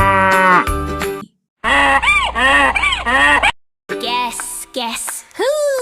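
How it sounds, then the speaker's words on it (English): Loud, drawn-out cow moos come in several bursts separated by brief silences, close and full. "Moo, moo, moo. Cow says moo just for you."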